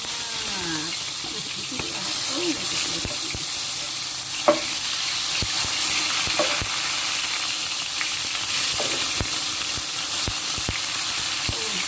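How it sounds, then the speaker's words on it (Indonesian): Tomatoes sauté in hot oil for sambal, a loud steady sizzle and hiss up close, broken by the scrape and clack of a stirring utensil at irregular intervals, with no talk. "setelah panas minyaknya, yang kita tumis dulu itu adalah tomat"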